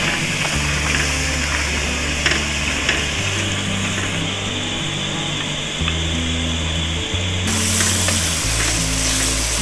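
Boiled mutton with ginger and garlic is dry-fried for a karahi in a pan, giving a loud, continuous sizzle with steady frying hiss and some clattery stirring; nobody speaks.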